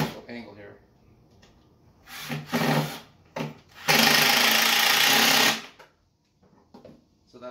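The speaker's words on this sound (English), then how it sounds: "you can really see the power of the drill doing all the work" A power drill whirs in short bursts, then runs steadily for about two seconds as it drives into wood, loud and close, followed by quiet.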